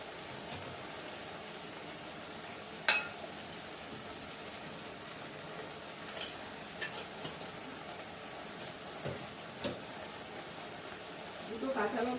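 Paneer and okra frying together in a pan give a faint, steady sizzle with occasional soft clicks and pops, rising a little near the end.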